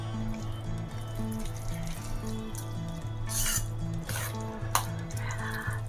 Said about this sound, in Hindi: और अब हमें इसे स्पून की हेल्प से मिलाते रहना है, इसे फेंटते रहना है एक ही डायरेक्शन में